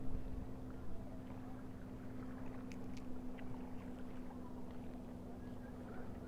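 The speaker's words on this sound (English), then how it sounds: "There's another speedboat." A speedboat passes on open water, a faint low steady engine drone with a constant hum heard from a distance over wind and ambient outdoor noise.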